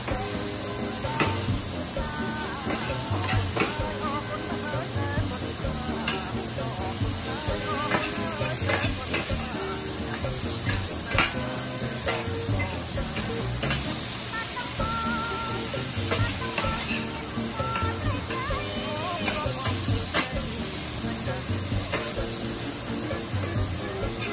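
Lok Lak sizzles steadily in a hot pan with constant clattering stirs and scrapes throughout, loud and close with no voices.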